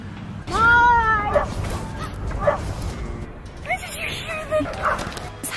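A dog barks in a few yips at the start, then gives high whimpers and whines across the rest, close by, with people talking quietly around it.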